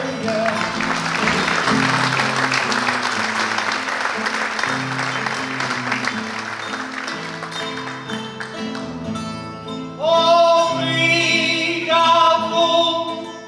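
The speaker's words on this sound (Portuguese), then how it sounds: "Obrigado pelas palmas belas deste auditório" Audience applause filling an auditorium at a cantoria singing event during a Portuguese Holy Spirit festival, loud, dense sustained clapping that tapers slightly, then gives way to a sung or spoken voice near the end.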